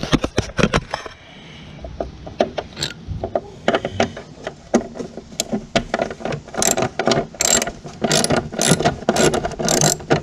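Ratcheting clicks from a wrench or driver loosening a screw on the cover of a Toro self-propelled mower, in quick bursts of close, sharp mechanical ticks that speed up into a dense, steady run toward the end.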